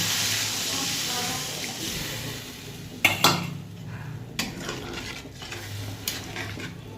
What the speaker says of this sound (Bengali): চলো এবার আঁচটা কমিয়ে একটু মশলাটা ভালো করে কষে নিই